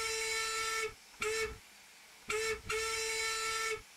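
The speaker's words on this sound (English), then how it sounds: "And you press V for short whistles." Train whistle of the Wayside Works Robin locomotive in Train Simulator Classic, four loud harmonic blasts: a long one, a short one, another short one and a final long one, with brief gaps between.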